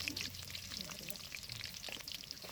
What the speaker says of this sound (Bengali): প্রথমে দিয়ে দিলাম সরিষার তেল। তেলটি গরম হলে পেঁয়াজ কুচি দিয়ে দিলাম।